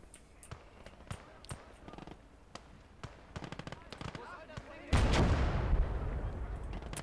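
Scattered sharp gunshots and cracks of rounds flying over in the World War II game Call to Arms: Gates of Hell, German conquest, a steady patter of distant shots, then a loud sustained blast-like rumble in the last couple of seconds.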